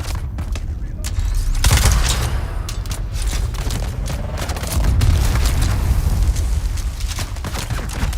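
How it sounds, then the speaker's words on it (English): Grenade blast in the online survival game Dune Awakening, with two heavy low booms landing about three seconds apart, loud and close amid steady in-game background noise. "That might have been my best grenade throw of all time. Blew up right at face level."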